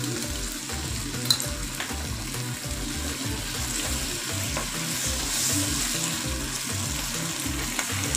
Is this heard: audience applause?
no